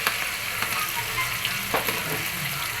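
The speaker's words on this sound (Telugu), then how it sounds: "అలాగే టమాటా ముక్కలు కూడా వేసేసుకోవాలి" Tomato pieces and spices sizzle steadily in a hot pan for vegetable sambar, a close, continuous frying hiss broken by brief stirring scrapes.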